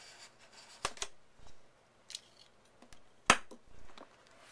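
A blade slices into the packaging of a 15-inch unibody MacBook Pro box, giving a few sharp cutting strokes and scrapes, close and fairly quiet, with brief pauses between them in an otherwise still room.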